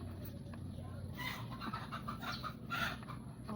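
Chickens clucking softly nearby in a backyard, a few short calls coming and going over a low background hum.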